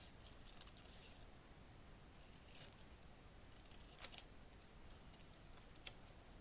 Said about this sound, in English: let me just cut the corner here first